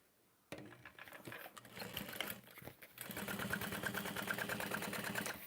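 A sewing machine top-stitches through a fabric bag, starting abruptly with a close, steady mechanical whir. It runs in short bursts at first, then settles into a continuous rapid stitching rhythm.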